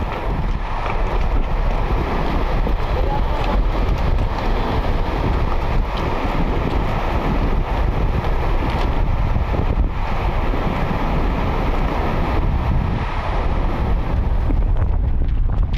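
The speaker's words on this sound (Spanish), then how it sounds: "disfrutar del paisaje y del sonido del agua al golpear las rocas" Steady rushing water crashing over rocks at Río de Los Cipreses Reserve, Chile, a dense continuous roar mixed with gusts of wind buffeting the microphone, loud and close throughout.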